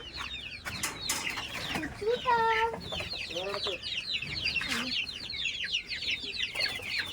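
Young chickens, chicks of a white hen kept as pets in Kerala, clucking and cheeping in quick bursts near and far, with a brief flap of wings and faint talk.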